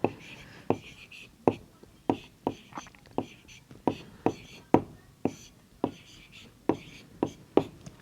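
Chalk or marker strokes writing numbers on a classroom board during a primary-school maths lesson, sharp scratchy taps recurring in a steady rhythm about twice a second, close and distinct.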